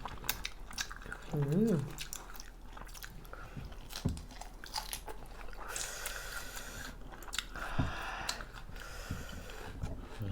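Close-up chewing and crunching of raw shrimp soaked in spicy fermented fish sauce, a steady run of wet bites and mastication with a short vocal murmur near the start.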